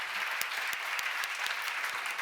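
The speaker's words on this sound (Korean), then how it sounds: "여러분 내가 들을 수 있는 길을 준 하나님께 박수 한번 쳐보세요" A Korean church seminar congregation claps together, a dense, even patter of many hands heard from a distance for a couple of seconds.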